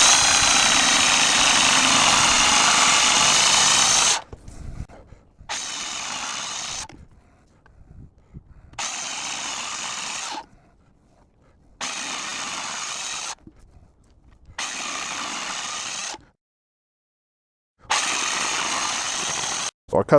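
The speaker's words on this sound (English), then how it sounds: "So let's go ahead and get the Sawzall out, and I'll just go ahead and cut these" A reciprocating saw cuts pipe in several loud bursts, with one long cut followed by shorter cuts separated by pauses.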